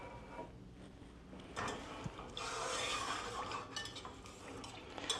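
Whisk stirring tomato paste into liquid for lasagna in a pot, quiet scraping and swishing strokes with light metallic clinks, rising briefly louder in the middle then easing off.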